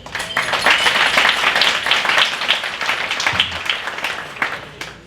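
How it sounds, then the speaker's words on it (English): Audience applause at a community leadership awards evening, a dense wash of many hands clapping for about five seconds, fairly loud and steady before tapering off at the end. "Give yourselves a round of applause."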